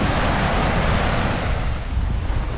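Ocean waves break along the shore during a beach walk, giving a loud, continuous roar of surf mixed with wind buffeting the microphone, steady throughout with a slight dip partway through and no speech.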